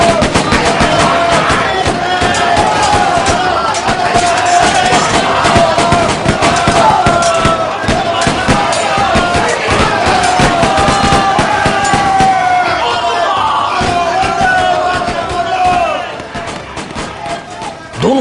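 A dense, continuous barrage of rapid gunfire crackles loudly for about fifteen seconds in a dramatized 1924 battle between rebel fighters and the Assam Rifles, then eases slightly near the end.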